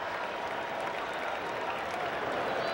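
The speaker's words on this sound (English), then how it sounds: "Listen to the crowd." Stadium crowd at a 1996 Phillies at Cubs baseball game cheering as a hitter tips his cap after a homer, a steady, dense roar of voices and applause filling the whole stretch at moderate, even loudness.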